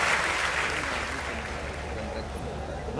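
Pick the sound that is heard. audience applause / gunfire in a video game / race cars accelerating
audience applause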